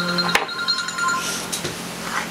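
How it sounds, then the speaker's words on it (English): A phone rings briefly with a steady electronic tone that cuts off after a sharp click, then fades into low room noise. "Phone's ringing"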